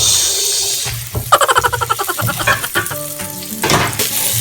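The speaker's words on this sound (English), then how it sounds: "Start stirring it." Beef and mushroom stirred in a wok, a busy run of rhythmic scraping and clattering strokes over a steady frying sizzle, fairly loud and close, with no talk.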